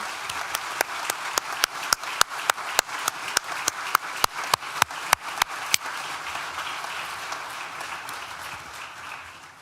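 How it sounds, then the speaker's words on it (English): Graduation ceremony audience at NTU's School of Science and Technology applauding: sharp, evenly spaced claps ring out first, then blend into a softer, dense wash of crowd clapping that fades slightly toward the end. "Please join me in a round of applause"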